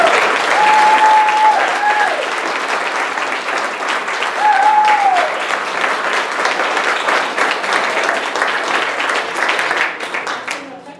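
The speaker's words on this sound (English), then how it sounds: "And you can applaud for them" Loud, sustained audience applause honoring Whatcom County Fire District 5 firefighters at a congressional commendation ceremony, dense clapping holding steady for about ten seconds with a couple of brief whistle-like tones, then tapering off at the end.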